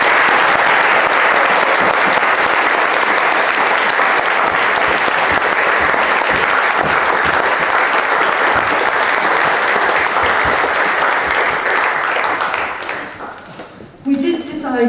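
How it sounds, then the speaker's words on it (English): An audience at a small charity's annual general meeting gives a long, loud, dense round of applause that fades out near the end, with a brief voice at the close. "give all those people, and also the names of people that I haven't mentioned, a very big round of applause"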